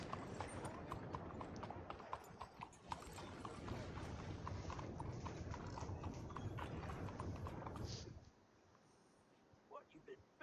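Horse hooves clip-clopping steadily in Red Dead Redemption 2, loud and close with a dense rhythm under speaking voices, then stopping abruptly near the end, leaving quieter scattered sounds.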